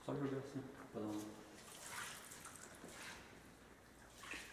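Water splashes from an ice cream tub onto a car in a low, echoing space, a couple of gushing throws followed by a wash of dripping and running water while a person talks.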